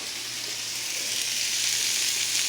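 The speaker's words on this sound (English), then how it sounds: "I'm going to let that sear" Meat searing in a pan after the stock has reduced, a loud, close, steady hissing sizzle that swells slightly toward the end.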